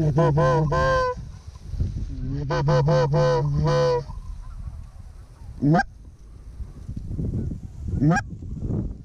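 Several geese honk in quick repeated bursts close by during an Iowa goose hunt, followed by a couple of sharper rising calls amid a low outdoor rumble.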